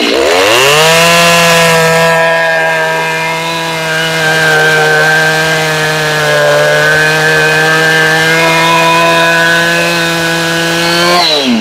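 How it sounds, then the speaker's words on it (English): A chainsaw runs continuously at a steady high whine, loud and close, with a slight dip in pitch midway as it bites into a felled tree trunk. "if the chainsaw will stay running."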